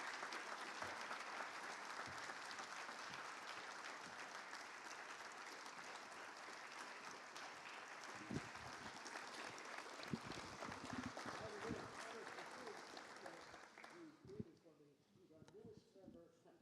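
Hall of Fame ceremony audience applauding its new inductees, sustained clapping from a crowd that thins out toward the end, with voices and some scattered louder claps mixed in.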